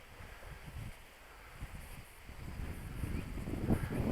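Strong gusty wind buffets the microphone at an RC glider flying field during an electric launch glider test, a steady low rushing roar that swells louder toward the end, with no talking.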